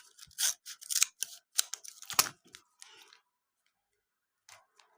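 A Hello Kitty collectible packet is torn open, with a quick run of close, crisp plastic crinkling and ripping bursts that stop abruptly, then two faint rustles follow.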